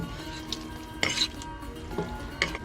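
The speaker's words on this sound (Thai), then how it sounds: "เครื่องในที่เอาซอยไว้เอาใส่ลงไปเลยครับ" Sliced pork offal goes into a clay pot with a little water, bringing soft sizzling and stirring along with several sharp clinks and scrapes of a utensil against the pot.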